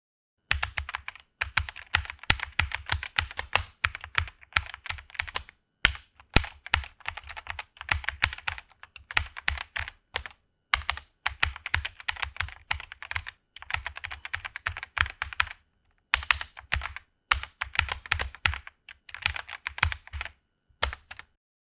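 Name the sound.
typing on a computer keyboard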